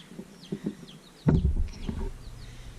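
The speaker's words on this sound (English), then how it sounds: "here are our little chicks" Small, high peeping chirps from baby chicks repeat in short bursts, then a loud rustling clatter breaks in close by, with more faint peeps continuing over it.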